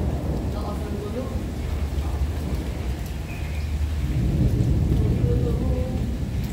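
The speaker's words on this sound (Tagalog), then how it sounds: "Ayun, may kulog." Rainstorm in Tsing Yi Northeast Park, Hong Kong, with steady rain hiss and a low rolling thunder rumble that swells toward the end, fairly loud and enveloping.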